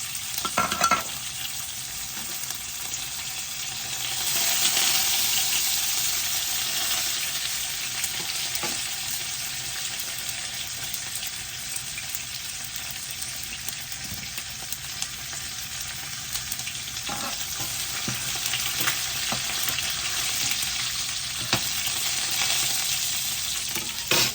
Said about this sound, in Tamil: வெந்தயம் பொரிஞ்சிட்டுது